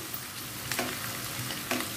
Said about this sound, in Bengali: পেঁয়াজগুলোকে হালকা গোল্ডেন কালার করে ভেজে নিব